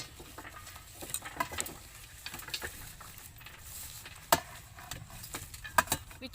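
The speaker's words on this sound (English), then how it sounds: "So I'm going to mix this fruit with chili sauce" Java plum fruit is stirred into chili sauce by hand in a quiet rural setting, producing soft wet squishes and scattered light clicks and taps at close range, with small irregular bursts of activity.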